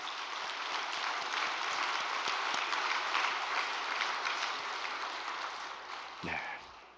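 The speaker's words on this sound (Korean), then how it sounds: "한번 격려의 박수를" Audience applause of encouragement at a spiritual training gathering, a dense, loud, sustained wash of many hands clapping that tapers off near the end.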